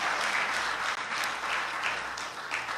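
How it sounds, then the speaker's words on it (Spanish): Church congregation applauding during a worship service, continuous clapping from many people, moderately loud and steady with faint pulses of louder claps. "Démosle un aplauso fuerte al Rey de la Gloria"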